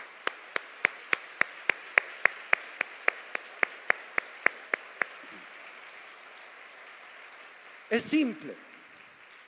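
A single person claps in steady, evenly spaced beats, about seventeen claps over five seconds, at a church sermon, then stops; a brief voice follows near the end.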